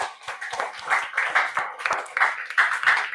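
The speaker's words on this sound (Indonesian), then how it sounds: "Tepuk tangan." A classroom group claps together for about three seconds, a steady, brisk run of hand claps at close range.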